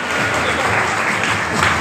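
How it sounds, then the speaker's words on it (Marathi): Audience applause at an award presentation in Chhatrapati Sambhajinagar, a dense, steady clapping that fills the whole moment at close range with no talk over it. "महिला वर्गाकडनं जरा जोरदार टाळ्या झाल्या पाहिजे"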